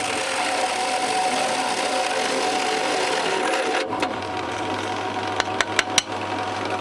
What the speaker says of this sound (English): that drills a rebate for the heads of the M10 screws or bolts that hold one of the Munson rings on